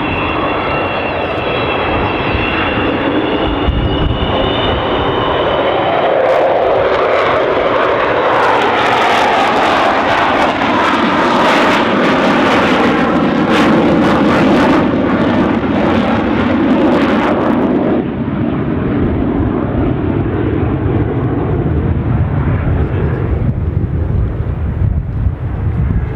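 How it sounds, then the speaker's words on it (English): An Avro Vulcan bomber makes a low, slow flypast with its wheels down at an airshow, a loud roaring jet engine swelling and shifting in pitch as it passes, with wind buffeting the microphone. "doing a low, slow,"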